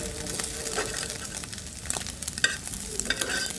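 Cut pieces of egg frying in a pan, a close, moderately loud sizzle with crisp crackles and intermittent stirring clatter.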